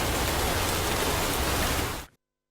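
Dense, even hiss of the first winter rain falling across Khyber Pakhtunkhwa, loud and close, with no voices, cutting off sharply after about two seconds.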